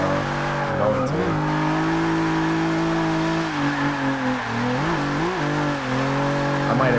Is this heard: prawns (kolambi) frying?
no